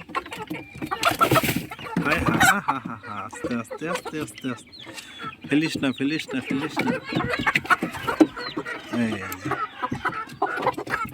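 Grown Sonali chickens in a raised coop cluck and squawk nervously while a person talks loudly and continuously over them.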